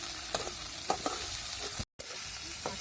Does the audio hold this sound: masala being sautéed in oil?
yes